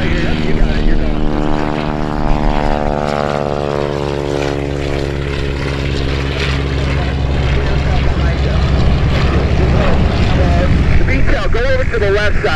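A high-wing propeller airplane takes off at EAA AirVenture Oshkosh on a busy Saturday, its engine droning loudly and rising in pitch as it accelerates, while a radio voice talks over it.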